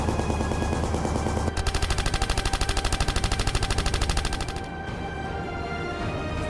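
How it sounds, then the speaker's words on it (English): Rapid machine-gun fire in a wartime air combat scene, a fast, even burst of loud repeated shots lasting about three seconds over a constant droning engine roar, which continues after the firing stops. "I think Jerry ran out of bullets"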